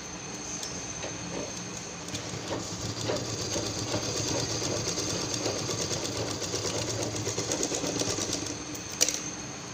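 A sewing machine runs in a continuous, rapid mechanical whir and clatter while stitching a homemade purse, steady and fairly close for several seconds before a sharp click near the end.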